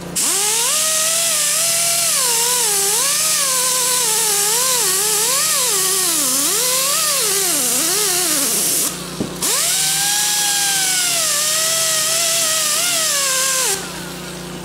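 A handheld power tool spins a disc to clean rust from the welds on an exhaust pipe. It gives a loud, continuous whine whose pitch rises and falls as it works, with a brief dip near the middle, and no voices.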